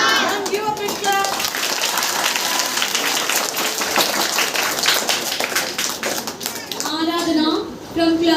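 An audience of children claps at a school Independence Day celebration, dense steady applause rising over a few seconds, with a voice speaking at the start and again as the clapping fades.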